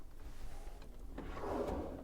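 A drawer slides open and shut in the galley of a 22-foot Wingamm Oasi 690 Class B RV, a soft, brief scraping glide heard close but quietly, with no talk.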